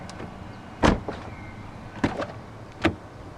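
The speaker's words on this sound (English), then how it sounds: "As you open the doors, the windows dip down a little bit to clear the door frame" Frameless windows on a 2016 Mercedes-Benz C 200 Coupe AMG Line dip as the doors open, producing short close clicks and brief motor whirs in three separate bursts against a quiet background.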